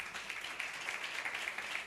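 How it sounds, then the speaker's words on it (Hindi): An audience applauds at a religious message gathering, a steady patter of many hands clapping at moderate distance with no pauses. "तो भाई के लिए तालियां तो होनी चाहिए ना"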